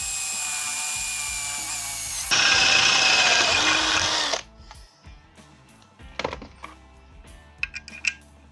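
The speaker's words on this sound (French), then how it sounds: "il ne reste plus qu'à faire le trou pour le potentiomètre. Et je perce." A power drill bores a hole for a potentiometer in a homemade 20 W LED spotlight, with a high, whining motor that rises louder partway through and then stops. Light clicks and handling noises follow.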